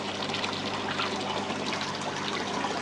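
Water rushes and churns through a pond filter during a flush, a dense, steady wash of noise that stays even and fairly loud throughout, with no voices.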